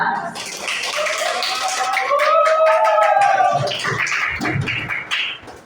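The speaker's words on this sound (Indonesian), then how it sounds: "Oke, tepuk tangan." A class of eighth-grade students claps together in a school classroom, a steady burst of applause lasting several seconds over a murmur of voices before it fades.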